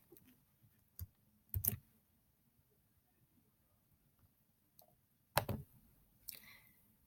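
Mouse clicks on a computer, a few sharp, close clicks spaced apart, some in quick pairs, against a quiet room.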